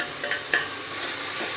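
Spoon stirring dry fish thokku frying with chili powder and pepper in a pan, a soft continuous sizzle with a couple of scraping clinks, close and without talk.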